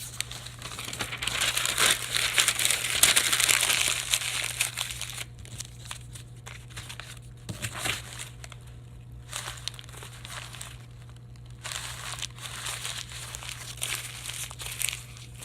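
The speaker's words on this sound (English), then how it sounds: "crumple it pretty tight" Sheets of paper are crumpled tightly by hand into a ball for an Oaxacan-style armature, giving steady crinkling and crackling that is dense at first, then sparser, close up with a low hum beneath.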